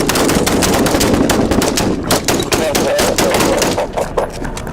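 Loud, rapid volleys of gunfire crack out during a police shootout that ends a multi-agency pursuit in Riverside County, California. The shots come densely packed and barely pause, with voices mixed in underneath.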